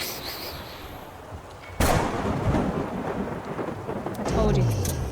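Thunder and rain in the Rue Valley video game: after a quiet start, a sudden loud crack breaks into a sustained rolling rumble over steady rain, swelling again near the end.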